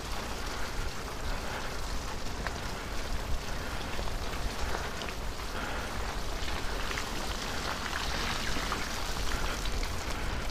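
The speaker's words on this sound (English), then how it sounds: "I must admit I forgot about the rain." Steady rain falls during a group bicycle ride on a wet countryside route, a dense, even hiss of drops pattering close by with no break and no voices.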